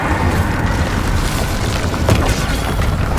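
An Incendio fire spell cast in Hogwarts Legacy on PS5 bursts with a loud, roaring whoosh of flame, a continuous dense rumble with a brief sharper flare partway through.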